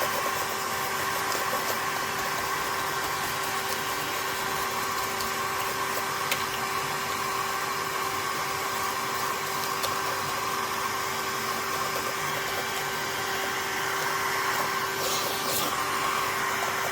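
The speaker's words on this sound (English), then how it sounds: "I'm going to use the vacuum at the same time and just clean as I'm going along." A vacuum cleaner cleans between the keys of a Toshiba C850 laptop keyboard, running at a steady close roar with a high whine throughout, holding the same pitch and loudness from start to finish with no talking.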